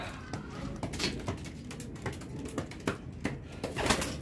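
Pigeons coo softly in the open, low repeated calls mixed with scattered clicks, flutters and knocks from birds moving around nearby.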